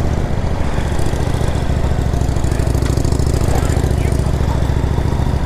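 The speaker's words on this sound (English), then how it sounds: "I got my Honda, little Honda scooter. Sounds like a scooter." A small Honda scooter engine runs close by with a steady, buzzy, rapid putter at constant loudness throughout.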